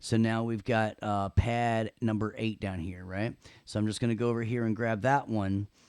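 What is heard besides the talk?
No everyday noise stands out behind the speech.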